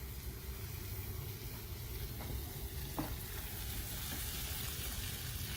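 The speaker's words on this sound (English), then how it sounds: "So let's get these all sauteed nicely going." Onions and pork sauteing in oil in a pot make a steady, dense frying sizzle, moderately quiet and continuous, with a couple of faint clicks of a utensil and no voices.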